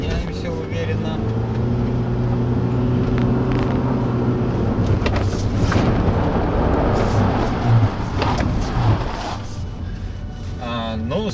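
Geely Emgrand 7 with a 1.8 CVT accelerating hard, with steady close engine drone and rising harmonics under road noise, while a voice talks over the middle stretch.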